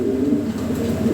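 Lahori Siraji pigeons, a large show breed in a display cage, coo in low, steady warbling tones that continue without a break, moderately loud and close, with no talking.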